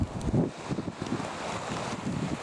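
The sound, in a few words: wind blowing into the microphone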